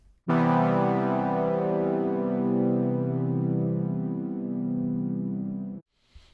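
A rich, sustained Serum synthesizer pad chord swells in and holds evenly for about five seconds before stopping abruptly.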